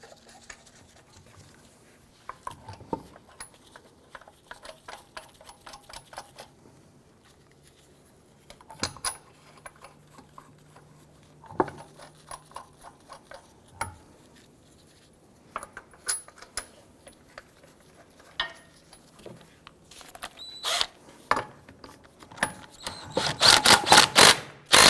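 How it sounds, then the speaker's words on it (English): Lug nuts threaded onto a front wheel of a 2008-2013 Infiniti G37 during a brake caliper job, heard as scattered metallic clicks and rattles of nuts and tools, building into denser, louder ratcheting near the end. "Install your lug nuts"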